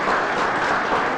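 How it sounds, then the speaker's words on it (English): Applause for award winners at a Homer Glen board meeting, a dense, even wash of many hands clapping together from the room for a brief stretch. "Let's give all the award winners a fresh round of applause"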